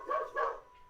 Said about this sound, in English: until the dogs are quiet